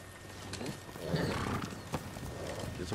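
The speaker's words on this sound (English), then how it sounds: "let's call our horse" A horse in the video game Ghost of Tsushima comes when called, with faint whinnying and hoofbeats clopping at a moderate pace over a low, steady background.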